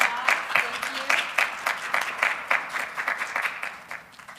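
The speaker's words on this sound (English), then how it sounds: "a big round of applause" A college forum audience gives applause, a moderate patter of claps with a loose pulsing rhythm, with a voice speaking faintly over it.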